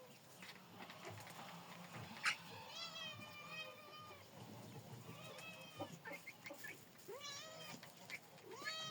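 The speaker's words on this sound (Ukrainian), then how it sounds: "Ти що, курча м'явкаєш там?" Small downy chickens at close range give a run of soft, high, wavering cat-like cheeps and meows in repeated bursts, with quiet background noise between calls.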